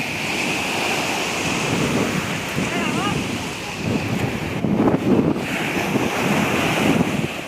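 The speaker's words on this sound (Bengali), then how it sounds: "আমি শুধু জলের যে স্রোতটা আমি শুধু দেখছি ওটাই দেখো" Sea waves and surf wash continuously at a beach, with heavy wind buffeting the microphone and brief faint voices in the background.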